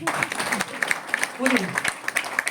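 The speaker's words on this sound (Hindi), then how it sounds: "ताली बजा दीजिए, बहुत बढ़िया" Audience clapping at a talk, scattered and uneven claps close by, with a voice speaking over them.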